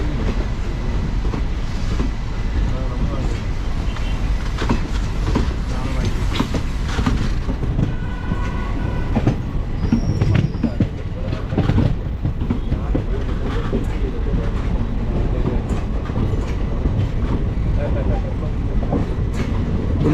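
The Mangalore–Coimbatore Intercity Superfast rushes past in the opposite direction, a loud continuous roar of passing coaches with rhythmic clattering wheel beats, heard from aboard the Tambaram Mangalore Express.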